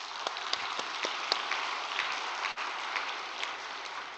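A crowd applauds at a gathering, with dense, even clapping that is fairly faint and continuous throughout, with no voices over it.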